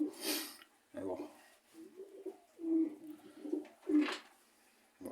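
Soft, throaty cooing from a pigeon, several low rolling coos close by, with a person speaking intermittently in between.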